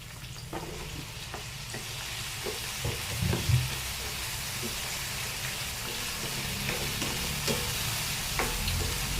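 Chicken frying in a pan with vegetables for a Filipino ginisang gulay, steady sizzle with occasional scraping of a utensil stirring, close and continuous.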